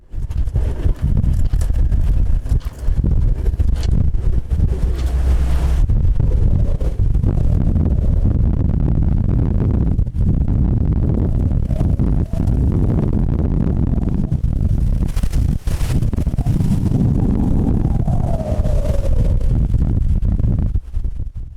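Strong, steady wind roars and buffets the microphone for the whole stretch, a constant low rumble outdoors on a ship deck in the Isles of Scilly, with no voices.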